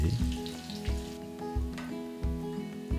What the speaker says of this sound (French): faire griller l'échalote dans 5 cuillères à soupe d'huile à feu moyen